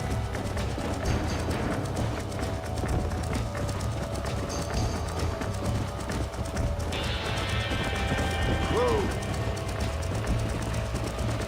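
A horse in Red Dead Redemption trots with a steady, continuous clip-clop of hooves over constant game ambience, moderately close throughout, with a brief neigh-like whinny near the end.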